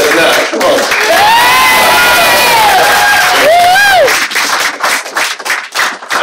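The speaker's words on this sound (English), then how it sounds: "Yes, round of applause for them." A live audience claps and cheers loudly for a dancing couple, with whoops and high shouts rising over steady applause that thins out toward the end.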